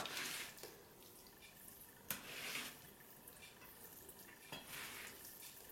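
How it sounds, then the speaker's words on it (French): Hot couscous semolina being mixed without broth, a faint soft grainy rustle and scrape of stirring with a few sharper clicks of the utensil, quiet and steady throughout. "On mélange bien pour que la semoule puisse s'imprégner chaude."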